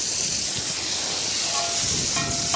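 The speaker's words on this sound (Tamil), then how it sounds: "பிரெட் பொரிச்சு எடுக்க பட்டர் சேர்த்துக்கலாம்." Butter sizzles on a hot tawa as bread fries for a street-style bread omelette, a steady loud hiss running unbroken throughout.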